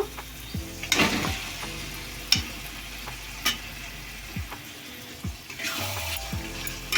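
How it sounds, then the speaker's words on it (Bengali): Marinated chicken for dhania chicken goes into a hot pan of spiced oil, with bursts of crackling sizzle and occasional stirring clatter over a faint tonal background, and no talking. "তো ম্যারিনেট করা চিকেনটা আমি দিয়ে দেব"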